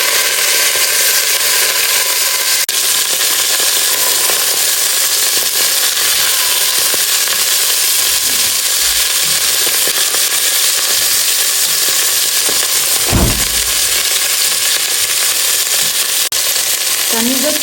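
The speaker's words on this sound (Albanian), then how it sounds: "Do të kalojmë në tenxhere qafën e kecit dhe do japim një skuqje të lehtë." Pieces of goat neck lightly frying in olive oil inside a pressure cooker: a loud, constant close-up sizzle that runs unbroken for the whole stretch, with a single dull knock partway through.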